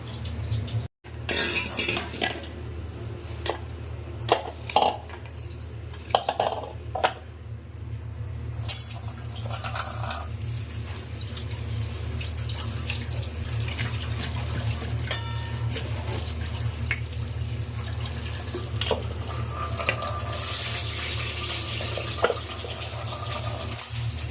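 Jujube plums are washed under a running tap, a steady rush of water with scattered splashes and clatter throughout, and no one speaks.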